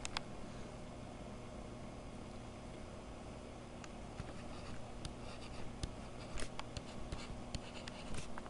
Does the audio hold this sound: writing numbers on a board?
yes